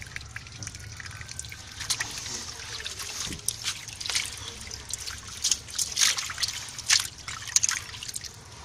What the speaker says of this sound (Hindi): पानी पा के इहनूं अच्छी तरह धोन लगे ताकि अच्छी तरह इसकी सफाई हो जाएगी।